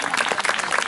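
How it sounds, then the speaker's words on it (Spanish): A short burst of audience applause at a live Spanish-language gathering greeting an arriving guest: steady, dense clapping from many hands, fairly close and continuous for just under a second. "Podemos brindarle un aplauso a Manje Casí que ha llegado."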